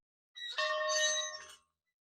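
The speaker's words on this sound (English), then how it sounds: "One birdie equals one bell ring." A single bell rings once on a disc golf course to mark a birdie, a bright clear tone that swells briefly and fades within about a second, heard alone.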